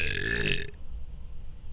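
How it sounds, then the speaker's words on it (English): A single loud, drawn-out belch from a person sitting close by fills the first part, then cuts off into quiet room noise. "Just had the same burp twice in a row."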